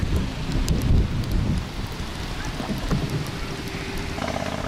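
Steady rain patters heavily on a boat in Cambodia, a dense constant hiss with a low engine-like rumble underneath.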